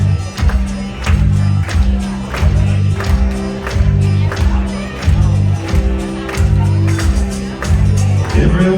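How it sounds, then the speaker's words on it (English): Audience at a comedy and music benefit show clapping hands in a steady rhythmic beat, loud and close, with music and singing running underneath. "Hands clapping."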